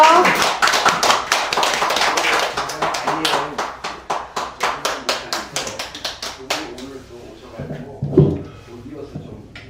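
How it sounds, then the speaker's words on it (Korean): Audience members clap to welcome a chairman at a Korean community meeting. The hand claps start dense and fast, then thin into slower, separate claps near the end, with a brief voice or thump toward the close. "박수로 환영해 주세요"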